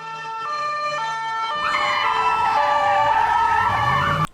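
Siren sound effect played through an LED bedroom lighting setup: a loud, steady wailing tone that rises and falls in pitch, then shifts to a brighter, sweeping wail before stopping abruptly, with no voices.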